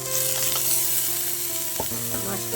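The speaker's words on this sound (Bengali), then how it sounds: "দিয়ে আমি ভালো করে নেড়ে চেড়ে ভেজে নেব" Fish sizzles and crackles in hot oil with fried onion, ginger and garlic while it is stirred, with a steady, close frying hiss and a brief scrape of the spatula near the end.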